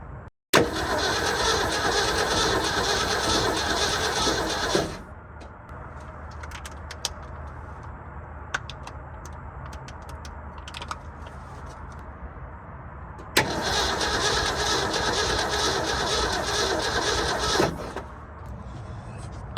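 A carbureted 1970 Ford F-350 with no fuel supply cranks on its starter in two long, loud, close bursts of about four seconds each, separated by a quiet pause, and it never catches.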